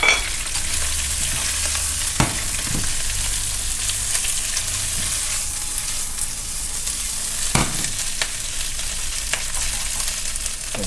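Onion and crab stir-fried for seafood ramen in a loud, dense sizzle that runs the whole time, with a few spatula knocks and scrapes, close up and with no voices.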